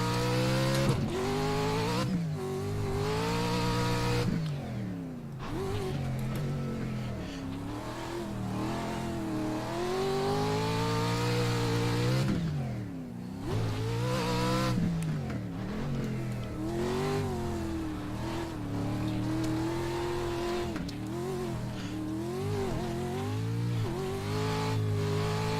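A Pro 2 off-road truck in iRacing revs hard and continuously, its engine note climbing and dropping through gear changes and brief lifts around corners, loud and up close throughout.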